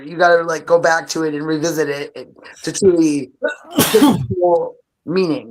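A single sharp sneeze bursts out after a spell of close conversational talk, followed by more speaking.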